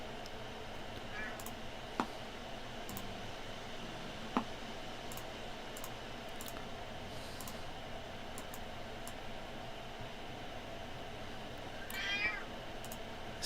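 A house cat meows a couple of times, faint and somewhat distant, at the start and again near the end, over a quiet room with occasional clicks.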